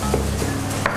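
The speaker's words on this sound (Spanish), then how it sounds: "Picamos así, ¿ves?" Knife chopping leftover eggplant stuffing on a board, a few quick close taps in a short burst with no voices.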